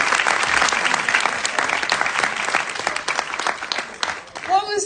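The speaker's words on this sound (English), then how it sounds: "Let's do a round of applause for all of our panelists today." Sustained applause from a forum audience thanking a panel of speakers, dense steady clapping throughout that tapers near the end as a voice begins speaking.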